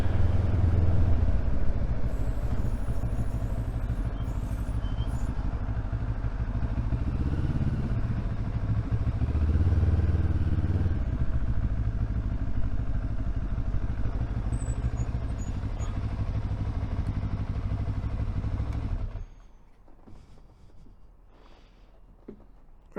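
A Benelli TRK 702 motorcycle engine runs at Crewe Motorcycle Centre with a steady, loud rumble for about nineteen seconds, then cuts out, leaving faint background noise.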